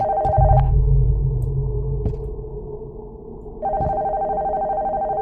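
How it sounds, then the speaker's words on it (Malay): An old telephone rings inside an abandoned house, a steady electronic tone that cuts off and then returns, heard fairly loud over a low rumbling room background with no talking. "Macam mana rumah kusang ni boleh masih lagi ada telefon bunyi?"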